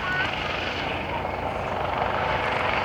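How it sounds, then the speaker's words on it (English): A Careflight medical helicopter passes overhead at an air show, its rotors and turbine engines producing a steady, loud broadband roar and whir that fills the entire stretch without letup. "It's the rhythmic motors on a Careflight Helicopter, together with a hum of its turbo jet engines gliding through the air"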